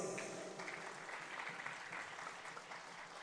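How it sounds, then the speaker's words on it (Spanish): A crowd applauds at a village celebration in Aldea Patulup. The clapping is a soft, continuous wash that sounds distant and quiet and keeps a steady level for a few seconds. "Y fuerte los aplausos,"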